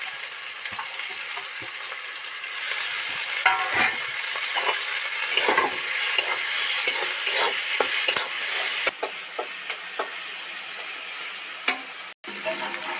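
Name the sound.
grated ginger and tomato frying in a pan with onions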